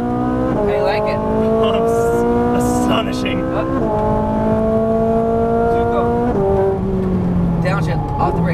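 A Ferrari 458 on a track revving hard through the gears, its engine note climbing in pitch, then dropping with downshifts as it brakes into corners, loud and close, with a voice talking over it.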